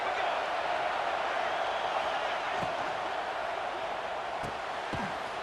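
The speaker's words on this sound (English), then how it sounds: "This crowd bringing the energy and noise early." Stadium crowd noise from the EA Sports College Football 26 video game, a steady, dense roar of fans that holds at an even level throughout, with a few faint thumps underneath.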